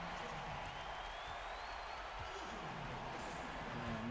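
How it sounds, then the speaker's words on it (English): Live arena crowd in the basketball video game NBA 2K17 cheering and clapping, a dense continuous roar filling the scene at steady volume with faint game sounds beneath. "The crowd is going crazy."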